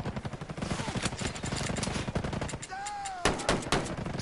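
Rapid gunfire in the Terminator video game, a dense run of repeated shots for most of the clip, then a short pause and a few sharper bursts, with faint voice bits underneath.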